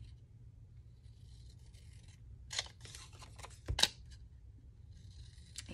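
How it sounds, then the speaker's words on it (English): Scissors cut through paper while a botanical junk journal is being made, giving two distinct close snips a little over a second apart over a quiet, faintly rustling background. "So what I was going to do is just cut this away."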